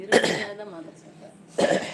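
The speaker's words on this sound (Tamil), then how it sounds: "இருமலுக்காக மாத்திரை சாப்பிட்டாங்க இருந்தாலும் இருமல் வருது" A woman coughs twice, sharp bursts at the start and end, with a short stretch of throat noise between them; she has been taking tablets for the cough, which still persists.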